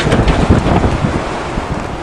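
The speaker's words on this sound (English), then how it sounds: "Holy crap, is it ever windy?" A strong windstorm roars across a farm, buffeting the microphone with a loud, continuous, rumbling rush and no break.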